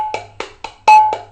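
A dayan tabla drum plays a quick T T Tara stroke pattern: four sharp ringing strikes followed by a louder resonant stroke, close and crisp, with no talking.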